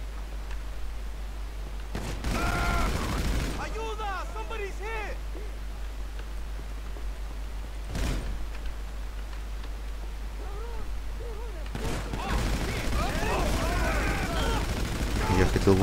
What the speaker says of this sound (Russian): А, они из дробовика даже стреляют